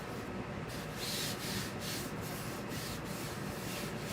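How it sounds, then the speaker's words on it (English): A hand rubs across a transfer sheet, smoothing it flat in a series of soft, close brushing strokes with a papery scrape, rhythmic and quiet, with no voices. "Need to smooth, smooth. We're smoothing out, just like that."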